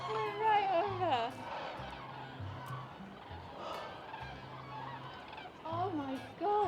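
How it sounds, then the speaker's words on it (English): Geese fly overhead in spring, their honking calls rising and falling at a middling distance in repeated bursts while people talk quietly in between. "We have got the birds flying back for summer."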